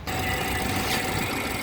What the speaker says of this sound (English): This engine, it doesn't sound like much